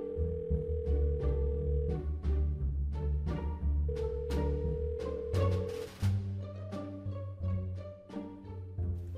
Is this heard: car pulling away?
no